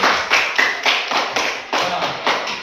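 Classroom applause for students during a civics lesson, a steady run of hand claps or taps in clustered bursts that rises and falls over a few seconds, fairly close, with no talk over it.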